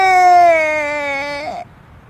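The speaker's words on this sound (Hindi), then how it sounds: "उसकी रोने की आवाज सुनकर सभी वहां आ जाते हैं" A woman character in a Hindi cartoon lets out a long, loud, tonal wail that slowly falls in pitch, then cuts off sharply into quiet.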